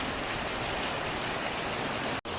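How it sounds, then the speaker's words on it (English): Heavy rain pours down in a dense, steady hiss of countless drops hitting surfaces, loud and unbroken apart from a split-second dropout near the end. "it's raining buckets."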